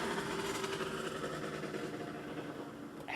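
Motorbikes roaring past outside, a steady, loud engine drone that holds through the whole stretch with no pauses and no voices.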